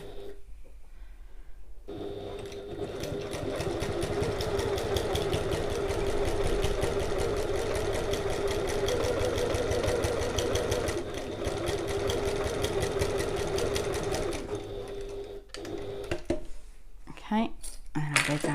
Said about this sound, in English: I'm going to top stitch either side.